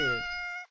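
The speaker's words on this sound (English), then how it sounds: "I heard the meow that time." A single short, high cat meow from a cozy video game, clear and close, with a faint voice just before it.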